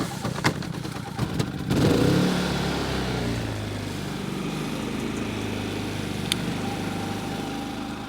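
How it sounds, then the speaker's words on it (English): A generator starts up at a winter campsite, turning over with a brief rough burst and then settling into a steady, fairly loud mechanical engine drone that continues throughout. "so we gotta start the generator up."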